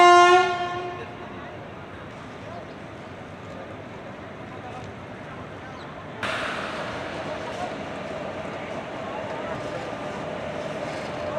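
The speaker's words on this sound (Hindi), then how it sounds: "अब चलिए देख लेते हैं कि इसका लोकोमोटिव कौन सा लगने वाला है।" A locomotive horn sounds loud and close at the start, then fades as a train approaches to couple onto the Howrah–Raxaul Mithila Express, with station rumble and a second rise of noise midway.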